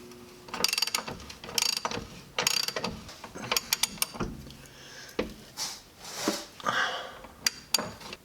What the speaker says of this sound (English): So now we're going to tighten up all of our control arms